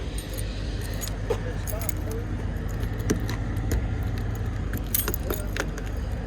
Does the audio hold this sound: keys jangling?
yes